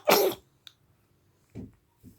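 A single loud, explosive human sneeze bursts out up close, followed by two short, softer breathy sounds and quiet between them.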